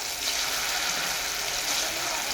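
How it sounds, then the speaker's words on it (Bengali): Cubes of paneer frying in hot white cooking oil, a steady bright crackling sizzle, close and continuous, with no speech. "সাদা তেলটা গরম করে নেব তেলটা গরম হয়ে গেছে আমি পনিরগুলো ভেজে নেব"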